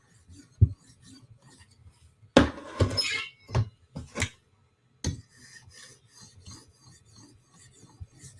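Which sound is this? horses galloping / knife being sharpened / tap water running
knife being sharpened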